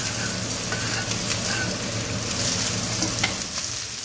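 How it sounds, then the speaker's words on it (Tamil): Garlic and ginger fry in oil for street-food chicken noodles, giving a steady, dense sizzle with occasional stirring scrapes, close and constant throughout. "கொஞ்சம் ஆயில் விட்டுட்டு கார்லிக்கு இஞ்சி எல்லாத்தையும் மொத்தமாகவே போட்டுறேன்"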